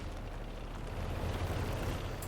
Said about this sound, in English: And I will get mussed up by artillery